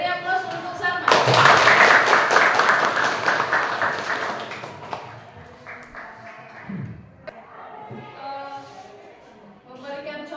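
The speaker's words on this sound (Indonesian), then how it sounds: "Oke, beri aplaus untuk Salma." An audience applauds for Salma: a dense burst of clapping starts after a second and fades out over about four seconds, followed by quieter room sounds and some talking.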